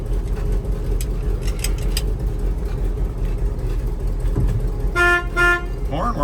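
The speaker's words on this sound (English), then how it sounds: "Horn works." The horn of a 1973 Ford F250 truck gives two short, loud honks close by, cutting through steady engine idle.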